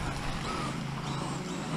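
A Tamiya BBX BB-01 radio-controlled car with a loose slipper clutch runs in a brief, steady whirring motor drone with a rough, grinding undertone.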